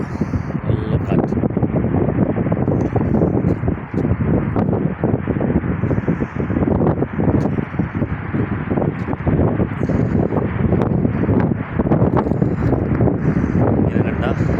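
Strong wind buffets the microphone beside a road near Mecca and Jeddah, a steady loud roar with rumbling gusts that continues without a break and no voices.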